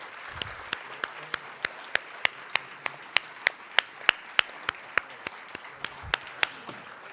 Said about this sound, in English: I just want to give all of the candidates a huge round of applause.